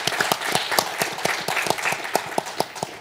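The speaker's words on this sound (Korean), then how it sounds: "우리 회장님과 총장님께 큰 박수 부탁드리겠습니다" An audience at a KAIST talk with a group honorary chairman and the university president gives close, lively applause, a dense run of sharp individual claps that keeps going steadily for a few seconds.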